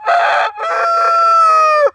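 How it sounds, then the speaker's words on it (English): A new farm rooster crows loudly and close by, a short harsh opening note breaking into a long sustained call that ends abruptly, with no other sounds around it. "It wasn't so fun this morning waking up to the incessant crowing of our new rooster, Tails."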